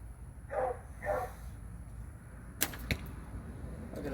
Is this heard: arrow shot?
yes